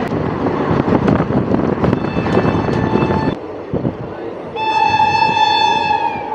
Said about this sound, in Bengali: এরকম জঙ্গলের বুক চিরে ট্রেন ছুটে চলেছে